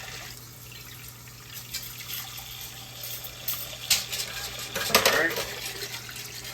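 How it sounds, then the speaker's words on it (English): Water runs from a kitchen tap in short bursts, with clinks of dishes and a brief spoken remark at moderate closeness. "let me get my water here"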